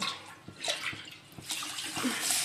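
Hot water poured into cooking dal, a short splashing, gurgling pour with uneven bursts, fairly quiet and close, no voices.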